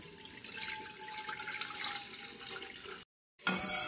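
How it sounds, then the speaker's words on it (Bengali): Milk pours steadily into a kadai holding a little water, a continuous liquid splash and gurgle at moderate level, broken by a brief gap before pouring resumes. "তারপর এই 1 লিটার দুধটা ঢেলে দিচ্ছি।"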